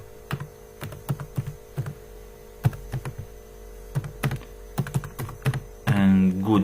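Keys clatter in short bursts and single clicks while Java code is typed on a computer keyboard, over a steady mains hum, ending with a louder burst of noise.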